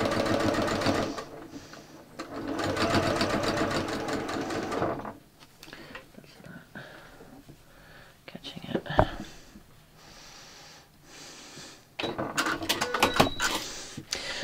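A sewing machine stitches bias binding onto knit fabric, running in steady loud bursts with pauses between, ending in a quick rapid run; a voice speaks quietly during the gaps.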